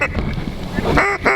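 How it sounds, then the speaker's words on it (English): Pintail ducks calling close by during a waterfowl hunt, a short burst of loud, nasal quacks and honking notes that overlap one another. "we got birds in the hole now. All pintails."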